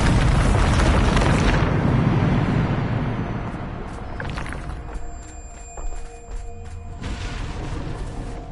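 Bombarda blasting spell in Hogwarts Legacy, a loud booming explosion with a long rumbling tail that slowly fades, followed by quieter debris and ambient game tones, with no talk.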